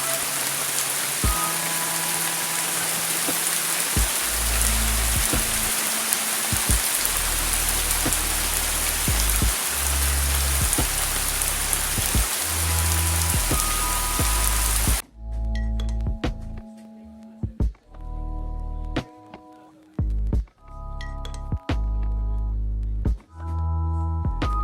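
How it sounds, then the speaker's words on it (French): A heavy rain shower in the Basque Country of Spain drums steadily on a surface nearby, a dense hiss that later gives way to sparser falling drops under bursts of tonal noise. "Je crois que c'est la pire averse que j'ai eue depuis le début."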